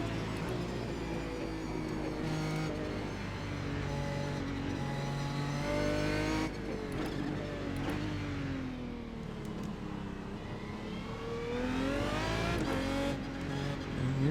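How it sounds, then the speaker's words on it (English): An Aston Martin GT1 race car in iRacing at Phillip Island revs and lugs through the gears, its engine note rising and falling with a faint whine of spinning tires, loud and close throughout. "And you're spinning the tires there."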